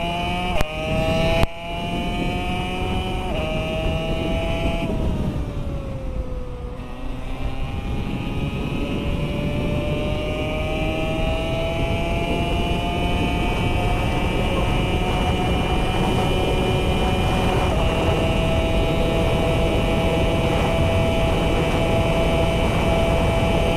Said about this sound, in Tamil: அடுத்து R15 ஸ்பீட் டெஸ்ட் பார்ப்போம்